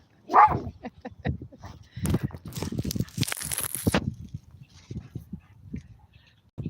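A small dog yips and barks in short bursts indoors, partly behind someone talking nearby.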